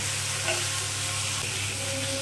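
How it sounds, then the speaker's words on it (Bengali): Note shak greens sizzle and crackle steadily in a hot pan, with occasional stirring scrapes and no talking. "আমার কিন্তু শাক ভাজাটা প্রায় হয়ে এসছে"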